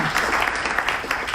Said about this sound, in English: Give the airport a round of applause